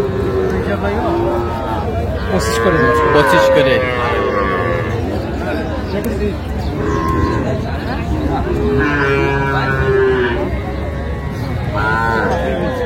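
Young bulls lowing repeatedly at a crowded cattle market in Narayanganj, several drawn-out moos rising over constant chatter and bargaining voices nearby.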